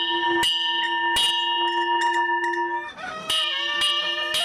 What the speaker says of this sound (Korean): 닭 울음소리를 신호로